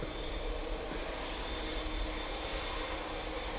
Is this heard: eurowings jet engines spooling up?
yes